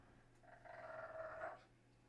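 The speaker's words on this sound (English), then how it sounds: "That was my dog." A pet dog growls in a low, sustained rumble lasting about a second, fairly faint and close, set against a quiet room with no talking over it.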